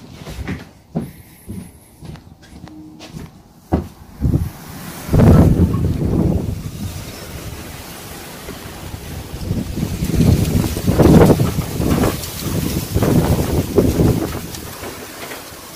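Gusty hot, dry spring wind roars through swaying trees in buffeting surges, rising and falling in loud rushing waves with microphone wind noise. Sharp thumps and knocks come early, and no voices are heard.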